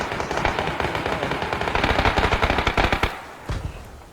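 Sustained automatic gunfire in a multiplayer shooter video game, loud rapid bursts rattling continuously with a few heavier single shots near the end.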